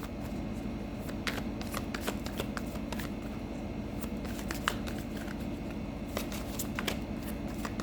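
Tarot cards are shuffled by hand close up, a steady riffling and sliding patter of card edges with small taps, continuous and fairly quiet with no talking.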